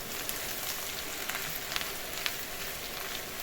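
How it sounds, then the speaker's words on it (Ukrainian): Onion and potatoes frying in a pan for a vegetable frittata, giving a dense, even sizzle and crackle with a few faint ticks, steady and close. "І тепер підсмажую ще цибульку з картопелькою."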